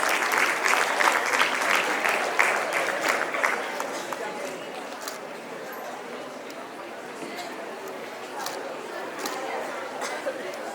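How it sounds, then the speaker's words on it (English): Steady applause from an audience at a school awards ceremony, dense clapping that is loudest at first and then settles to a lighter, continuous patter with some chatter underneath. "Big round of applause for them, please."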